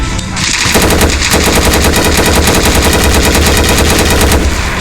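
Loud, rapid automatic gunfire rattles continuously with a dense, steady rhythm, sounding close and synthetic like weapon effects in a shooter game.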